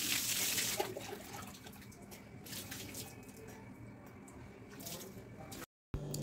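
Water splashing and running steadily through hair during a hair wash in warm weather, a continuous near wash of liquid with soft squishing, a brief gap near the end.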